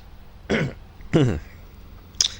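Two short throat clearings in quick succession, close and fairly loud, followed by a brief faint click.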